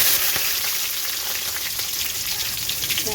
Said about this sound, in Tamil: மசாலா பொரிஞ்சதும்